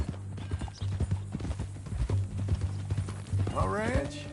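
Horse hooves clip-clopping in the video game Red Dead Redemption 2, a steady near rhythm of hoof strikes with a low engine-like hum beneath and a brief whinny-like call near the end.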